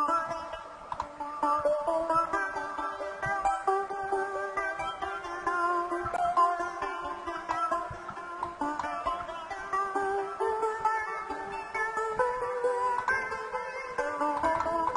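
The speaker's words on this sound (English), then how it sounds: "That sound is the propane arpeggiator in the Dance Volume 2 expansion in Nexus." A propane arpeggiator synth patch from the Nexus Dance Volume 2 expansion plays a steady, dense melodic pattern of bright layered tones, continuous and loud throughout with no voices.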